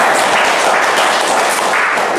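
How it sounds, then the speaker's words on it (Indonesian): Loud, dense hand clapping from a small group in a podcast setting, continuous and close throughout with no talk. "Oh, tepuk tangan."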